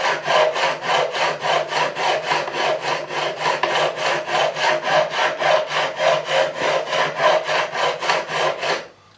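Abrasive rubbed straight across the high frets of a Gibson ES-335, a close, loud rasping scrape in a fast, even back-and-forth rhythm of about thirty strokes that stops abruptly at the end.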